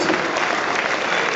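Crowd applause at a charity football match at a stadium, a dense steady clapping that fills the whole short stretch at even loudness, with no talk over it.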